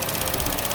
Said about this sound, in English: Are these engines traditionally noisy like that?